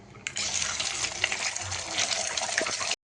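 Five beaten eggs poured into a ladleful of hot oil in a pan while making veg noodles: a sudden loud, close sizzling hiss bursts in and holds steady for about three seconds before cutting off.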